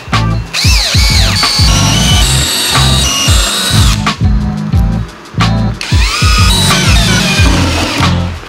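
Power drill driving screws to assemble a basket for a workshop shelf built from roofing battens, loud whirring bursts with rising and falling motor pitch, close up and continuous with short pauses.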